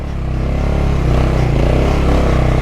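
A Kawasaki KLR650 motorcycle engine revs hard in the desert, a loud, close, steady throbbing roar that holds for a few seconds without a pause.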